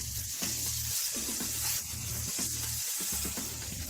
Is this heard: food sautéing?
yes